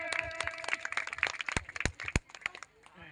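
An audience claps hands at a stage play, producing a ragged, uneven patter of sharp claps, some close and loud, others softer and scattered, with no voices over it.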